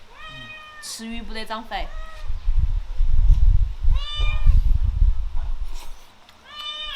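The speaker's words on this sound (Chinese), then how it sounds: "叫得喵喵喵的" A cat meows near the smell of cooked pickled-pepper yellow catfish, giving several clear, close meows in separate bursts, with people talking between them.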